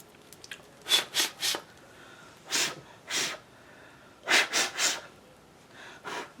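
Someone sneezes and sniffs into a shirt, giving a close, muffled series of short, breathy bursts in small clusters with quiet pauses between them.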